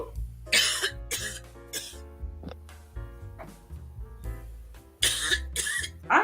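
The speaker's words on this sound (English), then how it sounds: "I'm gonna mute you myself while you are coughing." A person coughs in several bursts during a casual sit-down chat, with music or a tonal hum running steadily underneath and the coughs fairly close and loud.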